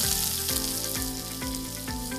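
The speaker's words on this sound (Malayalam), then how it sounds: "എണ്ണ ചൂടാകുമ്പോൾ കടുകിടുന്നു. ചെറിയ ഉള്ളിയാണ് വേണ്ടത്." Mustard seeds and finely chopped small shallots frying in hot oil, a loud continuous close sizzle with crackling pops and a few regular stirring scrapes, no talking.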